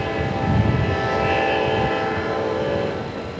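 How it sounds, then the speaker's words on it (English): A train rumbles past nearby with a loud, steady roar and a faint horn tone drifting above, no voices. "that's a train for sure."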